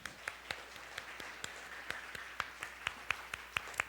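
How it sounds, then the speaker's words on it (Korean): A congregation at a winter church camp service claps, heard as faint, distant, evenly spaced claps in a steady rhythm. "우리에게 행복 주시고 재미 주신 하나님께 우리 영광의 박수 올려드립시다."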